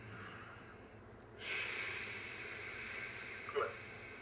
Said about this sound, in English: Now breathe out.